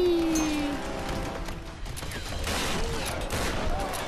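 Rapid bursts of gunfire in Tomb Raider 2013, dense volleys running across the stretch amid game effects and ambience, loud and close, with game sounds layered throughout.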